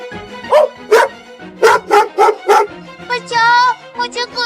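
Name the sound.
dogs barking in a cartoon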